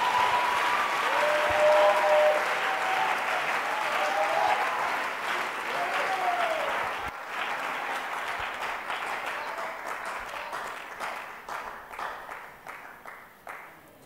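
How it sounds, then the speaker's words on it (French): A church congregation claps and cheers in sustained applause that fills the space, with a few voices calling out over it before the clapping thins and tapers off toward the end. "Let's give the Lord a hand of offering."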